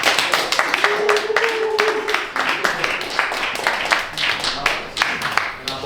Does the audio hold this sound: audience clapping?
yes